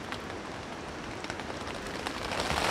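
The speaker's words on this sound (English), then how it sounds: "Here comes some rain coming off the treetops." Rain dripping off treetops in a forest at night, a steady close pattering wash of drops on a tarp tent and leaves, no voices.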